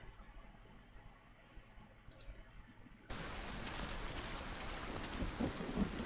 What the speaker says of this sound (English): this is basically just Witch Hunter in the rain